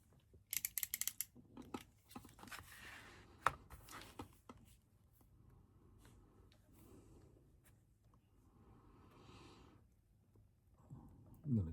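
Scissors cut leather for a bifold wallet in quiet snips and crunches, with an early rapid burst of cuts and faint handling noise afterward, close and soft.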